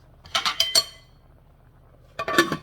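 A metal lid set onto a cooking pot on a home stovetop: a few quick clanks and rattles, a short pause, then another burst of clinking as it settles, close and fairly loud.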